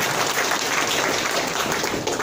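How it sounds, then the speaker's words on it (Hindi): Dense, steady applause from an audience at a motivational DXN program in Doha, Qatar, loud and continuous for the whole stretch with no talk over it. "गर्व के साथ कहता हूँ, एक जोरदार ताली"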